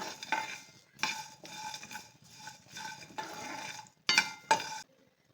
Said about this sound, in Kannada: ಇದ್ರ ಜೊತೆಗೆ ಕರಿಬೇವು ಸೊಪ್ಪು ಕೂಡ ಹಾಕ್ಕೊಳ್ತಾ ಇದ್ದೀನಿ. ಇದನ್ನು ಸ್ವಲ್ಪ ಡ್ರೈ ರೋಸ್ಟ್ ಮಾಡ್ಕೊಳ್ಳೋಣ.